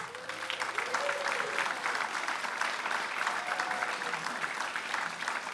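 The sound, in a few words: audience applause welcoming the MC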